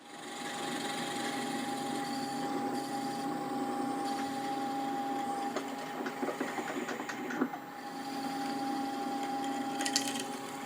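A drill bores all the way through a block of wood for a bird feeder, a steady close whirring grind that continues without pause, with brief rattling bursts partway through as the bit works deeper.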